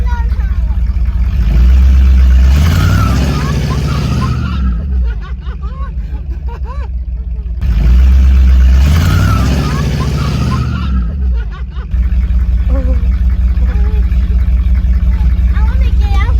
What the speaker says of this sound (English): You gotta try a burnout.